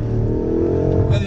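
A BMW M5 F90 with an M Sport exhaust pulls hard, its engine note rising in a brief, loud, close burst of acceleration, with a voice over it.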